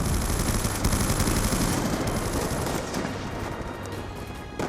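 Sustained automatic gunfire from Call of Duty Black Ops II, a dense continuous rattle of rapid shots that stays loud and close throughout, easing slightly toward the end.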